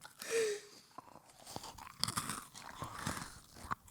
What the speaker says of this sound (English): eat really close to the mic